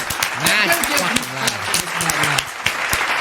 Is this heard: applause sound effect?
yes